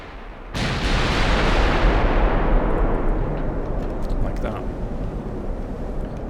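Battleship guns fire in the naval game Ultimate Admiral: Dreadnoughts, a sudden loud blast that rolls into a long, heavy rumble, followed by fainter thuds, with no talking.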